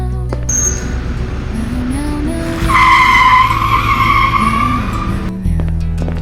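A car skids with a loud tire squeal close by, a sustained screech rising over a steady low engine rumble for a few seconds before cutting off.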